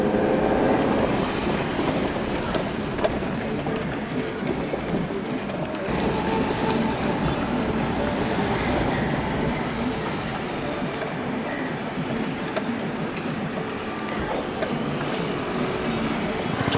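Steady road and engine rumble from inside a taxi moving through Kathmandu, a continuous mid-level drone with passing traffic noise throughout.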